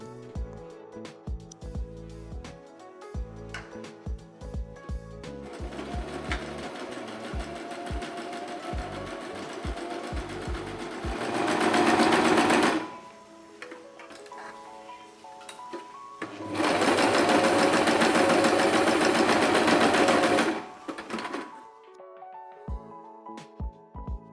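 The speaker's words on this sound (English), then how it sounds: "Tape around the edges of the bag and stitch on the sewing machine." A sewing machine stitches tape around the edges of a fabric shopper bag in bursts, a steady whirring stitch rising louder in two longer stretches, with clicks and handling sounds between runs.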